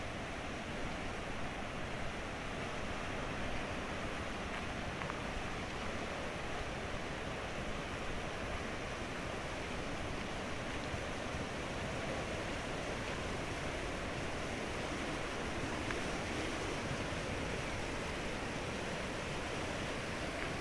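Steady broadband rush of a river flowing after a landslide, its water level lowered where debris still covers part of the channel; a continuous, even roar with no breaks and no voices.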